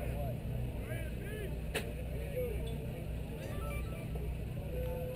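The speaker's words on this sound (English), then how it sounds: "The cannon you just saw discharged on the left" One sharp, distant boom of a cannon firing at a Gettysburg battle reenactment rings out briefly over steady outdoor hum, and people talk faintly nearby.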